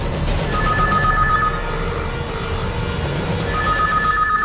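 A telephone rings in two electronic bursts, a pause between them, over a steady background hum with no talking.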